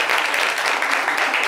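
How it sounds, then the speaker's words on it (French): Studio audience applause on a live TV show, dense steady clapping filling the whole short stretch without talk. "On peut applaudir celui en plateau."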